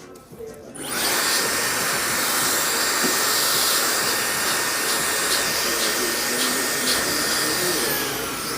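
A hair dryer blows steadily and loudly on a man's short hair during a barbershop comb-over fade styling, a continuous close whoosh starting after a brief quiet moment.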